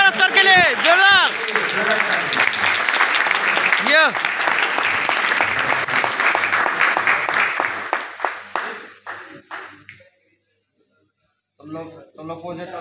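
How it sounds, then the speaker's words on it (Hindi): Loud applause from a crowd for an officer at a feedback program, vigorous clapping for about eight seconds that fades out and stops, followed by brief speech after a pause. "एक बार जोरदार ताली और एक बार अफसर के लिए जोरदार।"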